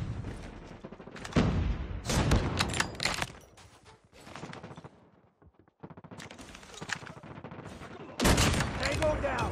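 Gunfire in a first-person shooter video game, with several bursts of loud, cracking shots separated by quieter gaps, plus scattered game noises and a voice talking at times.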